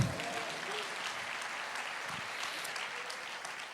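A live audience at a Portuguese-language sermon claps together in a dense, even burst of applause that holds steady for a few seconds without any voice over it.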